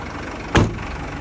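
A sewer jetter truck engine runs with its PTO drive engaged, a steady mechanical drone with a brief louder thump or clunk partway through, heard close and alone.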